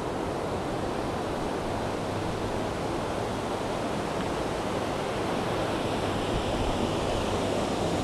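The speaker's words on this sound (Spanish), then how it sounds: "Que aquí las olas son muy grandes" Ocean surf at Playa Río Claro de Pavones, a constant loud wash of breaking waves filling the whole stretch with no voices.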